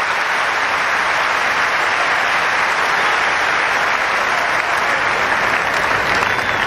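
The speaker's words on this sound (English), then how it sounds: "even on a losing point, he earns the applause of his coach and centre court." Centre Court crowd at Wimbledon applauds during a Federer match, a dense, even wash of clapping that stays loud and unbroken throughout.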